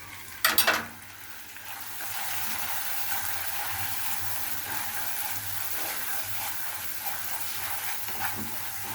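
Spices with chili powder sautéing in a hot pan: after a brief clatter of stirring at the start, a steady, close, dense sizzle hisses continuously with light scraping underneath.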